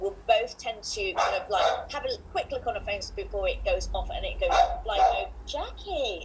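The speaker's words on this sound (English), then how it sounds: "oh my God, sorry about my dog." A pet dog barks and yips repeatedly, fairly close, over and between the steady talk of people in an indoor podcast setting.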